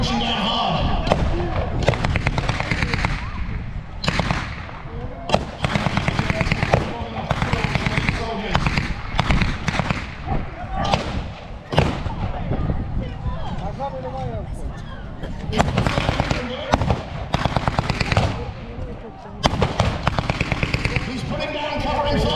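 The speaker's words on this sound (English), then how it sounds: "He's putting down covering fire." Gunfire from a WW2 re-enactment battle at Dover Castle, with covering fire being laid down: sharp bangs and thumps in irregular bursts throughout, close and loud, with a crowd murmuring and a commentator talking over them.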